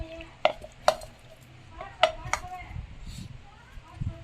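Pieces of cut dragon fruit are dropped into a mixer jar in a home kitchen, giving a few separate soft clunks and taps over low background noise.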